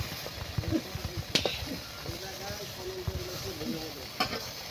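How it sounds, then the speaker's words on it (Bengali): Small fresh fish sizzling and frying in a pan while being turned and stirred, with a steady close hiss broken by a few sharper scraping clatters. "এই যে আমার মাছগুলো উল্লাই নিতেছি"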